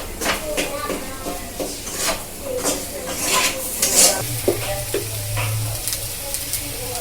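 Samosa potato filling, seasoned with ground black pepper, is stir-fried dry in a pan, giving a steady close sizzle with repeated scraping and clattering strokes of a spoon against the pan.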